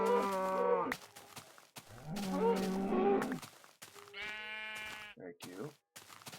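Sheep bleating in the Minecraft video game: several harmonic, wavering bleats close by, coming in bursts with short gaps between them.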